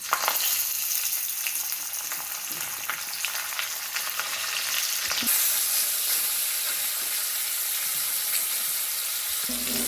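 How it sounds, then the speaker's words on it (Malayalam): Fish and curry leaves frying in hot oil, a steady close sizzle with crackling pops throughout, growing brighter and louder about halfway through. "മീനും കൂടെ പൊരിച്ചെടുക്കാം"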